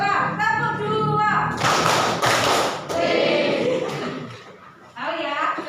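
A classroom group clapping a two-clap pattern, a dense burst of many hands followed by another, mixed with chuckling and a teacher's speech.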